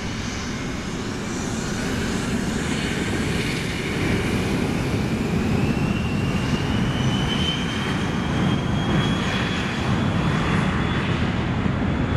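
A Dassault Falcon 900EX business jet takes off from runway 13, its engines roaring loud and steady with a broad rumble and a high whine that slowly rises, heard without talking.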